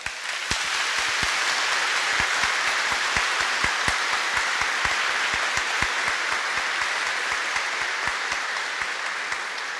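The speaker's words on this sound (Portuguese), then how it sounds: "Vamos acolher essas crianças com um aplauso." A congregation at Sunday Mass applauds to welcome newly baptized children, steady crowd clapping with a few sharp, distinct nearby claps standing out, sustained evenly through the whole stretch.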